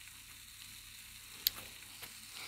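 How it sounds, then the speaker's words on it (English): Food sizzling on a stove in the Toca Life game, a quiet steady frying hiss with a sharp click near the middle and a softer tap shortly after. "This needs to be cooked. Let me cook."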